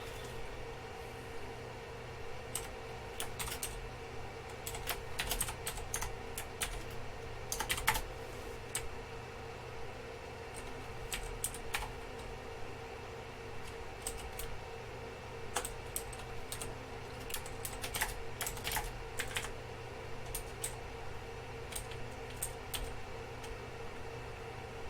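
Someone types on a computer keyboard in close, irregular bursts of clicky keystrokes over a steady low electrical hum, with brief pauses between runs.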